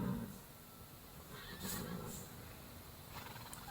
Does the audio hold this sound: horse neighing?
yes